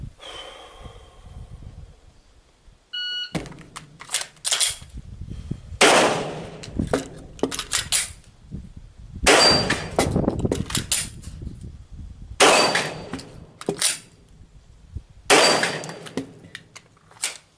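Pistol shots fired at six targets on a range during a Bill Wilson 5x5 drill, unloaded start: after a quiet lead-in, five sharp bursts of rapid shots ring out, spaced a few seconds apart, loud and close with no talking.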